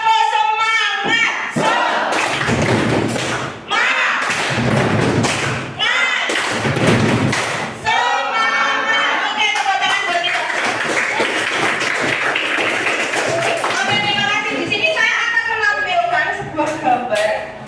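Children doing a rhythmic group clap cheer in a classroom, loud nearby bursts of clapping and thumps in patterned sets, mixed with chanting voices and a teacher speaking between rounds.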